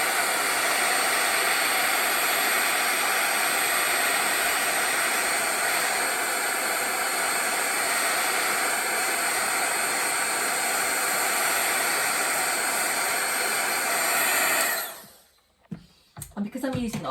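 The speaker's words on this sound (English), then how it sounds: "So I'm going to just heat up with my heat tool now." Heat tool drying acrylic paint and oxides on an art journal page, a steady loud blowing whir running about fifteen seconds before switching off, followed by faint handling noises.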